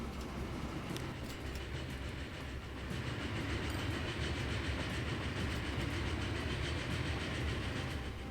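Trains in Transport Fever 2 rumble steadily with faint clickety-clack over the rails, a continuous mid-level roll with no talking.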